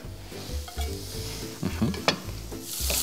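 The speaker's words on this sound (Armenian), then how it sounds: "հիմա միացնում ենք գազը և ավելացնում ենք սխտոր և իմբիրը" Garlic and ginger sizzle steadily in a hot pan on a gas stove while a utensil stirs and scrapes against the metal, close and moderately quiet.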